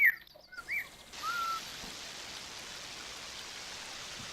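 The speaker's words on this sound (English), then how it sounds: "we could up the rain here and you'll see rain in the water" Simulated rainfall switched on in an AGK World Builder game scene with water: a steady, even hiss of rain begins after about a second and continues alone, with a few short bird chirps near the start.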